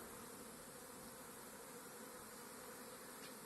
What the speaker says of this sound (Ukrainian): На оцьому вулику теж бджолан літає